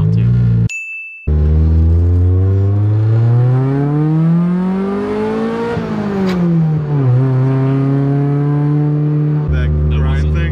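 A Toyota AE86 Levin engine revs hard, rising steadily in pitch, dropping briefly, then climbing and holding at a high drone. The sound is loud and close from inside the car, with a short chime near the start.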